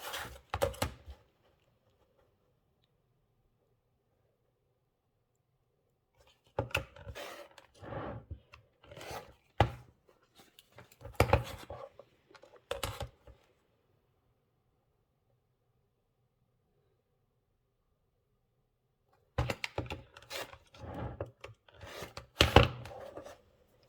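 Fabric for a quilting sew-along is cut in separate bursts of close scraping and slicing, with long silent gaps between the groups of cuts.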